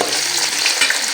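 Spices and chopped onion frying in a pan give a loud, bright, continuous hiss and crackle up close, steady for the whole brief moment with no voices.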